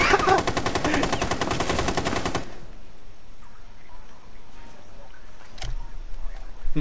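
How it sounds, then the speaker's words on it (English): Rapid automatic gunfire rips through walls in the Rainbow Six Siege video game, a loud sustained burst that stops abruptly and gives way to quieter game ambience, with a single sharp shot afterward. "He's gonna shoot through the walls."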